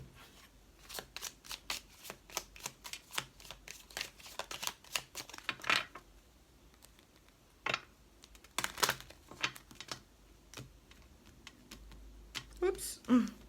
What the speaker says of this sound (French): on va en tirer 3 et on va les recouvrir pour les natifs de la Balance.